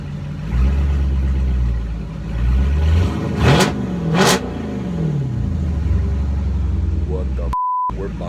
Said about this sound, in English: Freaking plum crazy Challenger, excuse me. Scat Pack Challenger. It sounds fantastic.